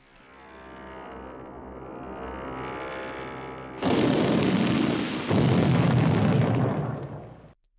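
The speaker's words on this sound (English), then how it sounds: "an explosion shakes the ground" A deep rumbling roar swells, then a sudden loud blast erupts and sustains with crackling debris before cutting off abruptly.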